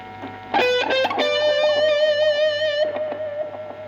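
A distorted electric guitar plays a sustained solo line with bends, a few quick picked notes before it and softer echoing repeats trailing after.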